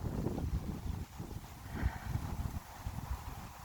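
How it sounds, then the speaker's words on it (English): Wind blowing outdoors across a yard and driveway where a rotten cedar tree has just been felled, heard as a steady, gusting low rumble buffeting the microphone, with no voices. "Now it's getting windy."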